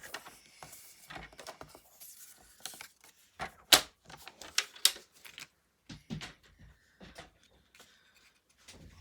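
Scissors or a trimmer working through a scrap of card paper, giving a series of close, dry clicks and snips in irregular bursts, with no talk over them.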